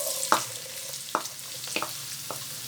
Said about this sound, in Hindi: अब हम इसमें डालेंगे बारीक कटी हुई प्याज